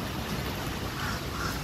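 Crows squabbling over scraps of food in a park, harsh calls blending into noisy outdoor background throughout a short stretch.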